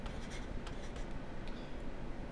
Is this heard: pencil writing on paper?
yes